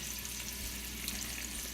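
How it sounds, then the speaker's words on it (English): Oil sizzles steadily in a frying pan while salmon dinner ingredients cook, a soft continuous hiss and crackle heard up close at low volume with no talking. "Y'all hear that sizzle?"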